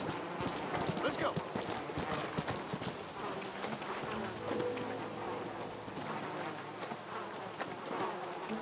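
In the video game Undead Redemption, horse hooves clip-clop in a brisk run with a buzzing insect-like drone over them, while voices talk throughout.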